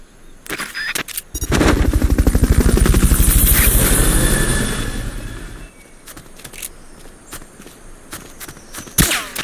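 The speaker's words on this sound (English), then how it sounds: "Fulton recovery subject confirmed onboard helicopter." A loud helicopter rotor thumps steadily with rapid beating for several seconds in the video game Metal Gear Solid Peace Walker during a Fulton recovery, then fades into quieter clicks and scattered sharp game effects.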